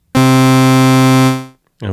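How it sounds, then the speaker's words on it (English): Sequential Rev 2 synthesizer holding a C with the octave above, played clean without a distortion pedal: one loud, steady buzzy tone lasting over a second and then fading, followed by a brief voice at the end. "So I'm playing a C and one octave above it, another C. Without the pedal it sounds like this."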